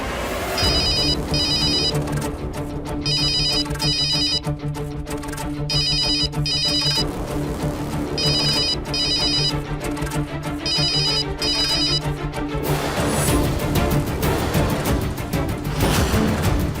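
An incoming call rings as a phone ringtone, a repeating electronic melody in short bursts with brief gaps, loud and continuous throughout without any speech over it.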